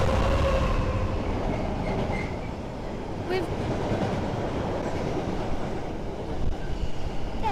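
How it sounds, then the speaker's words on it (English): A long yellow and red train passes on the track at Leighton Buzzard, a continuous loud rumbling rail roar with clattering wheels, while a person speaks briefly over it. "Oh, I can see a yellow and red train."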